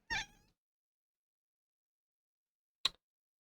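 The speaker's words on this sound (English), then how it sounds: "It sounds like one of my cats has woken up and had a little bit of a nightmare." A pet cat, apparently startled awake, lets out a short, clear meow, then after a long quiet pause gives a brief, sharp chirping cry, both close by in an otherwise silent room.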